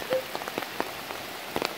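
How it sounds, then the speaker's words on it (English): A heavy downpour in Surrey near the James River during flash flooding: a constant dense rush of rain with frequent nearby drips and splashes punctuating the hiss. "And then we just got another big downpour."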